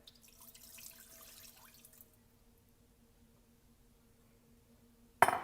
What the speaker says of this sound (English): We're going to take 1 cup of our shrimp stock and pour it in.